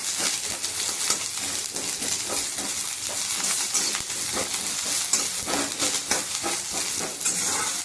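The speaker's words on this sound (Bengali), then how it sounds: "পেঁয়াজটা দিয়ে দিই অল্প করেই তেল দিয়ে ভাজছি" Onions sizzle loudly in oil, a dense, constant crackle and hiss with occasional sharper pops, close up and without talk.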